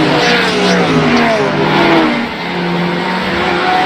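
Porsche race car engine in a GT endurance racing video game, a steady loud engine drone with shifting pitch running throughout, with a brief dip midway and no talk over it.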